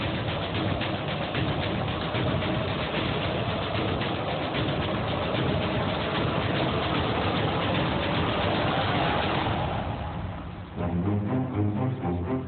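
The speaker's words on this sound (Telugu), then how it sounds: "ఇది ప్రిన్స్ బైక్." A Prince motorbike engine idles with a steady low rumble and dense rapid putter, close and continuous, changing to a lighter pulsing rhythm in the last couple of seconds.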